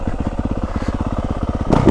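A Yamaha two-stroke dirt bike engine, with an electronic power valve, runs close by with a rapid, even crackling pulse that swells into a louder burst of revs near the end.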